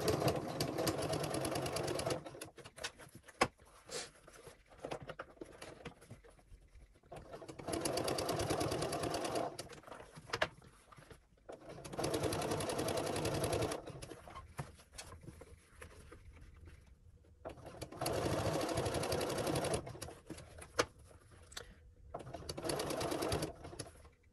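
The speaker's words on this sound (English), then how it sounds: "I'm just going to stitch a little bit and then readjust until I make my way around the outside." A sewing machine stitches through three fabric layers around the edge of an oven mitt, running in several long steady bursts separated by short pauses to readjust the fabric, close and clear.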